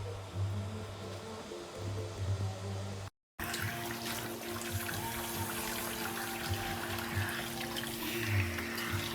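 A shower head with a brush built into its jet sprays a steady, hissing stream of water that cuts out for a moment, then resumes more strongly and continues evenly.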